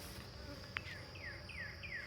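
Honey bees fly close around a hive, a faint whining buzz with a few short rising-and-falling passes as individual bees dart near, set against a quiet outdoor hum.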